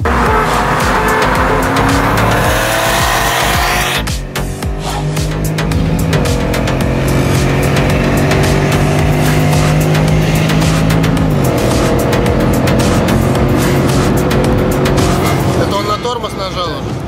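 A Toyota Chaser drives with its engine droning steadily and shifting through gears, loud and close throughout, with people talking over it inside the car.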